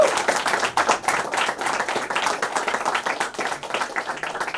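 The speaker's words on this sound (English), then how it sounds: "give them a huge round of applause all in back" An audience claps at a song promotion event, a lively, steady round of applause from a room of people, loud and close, with individual claps sharp and quick.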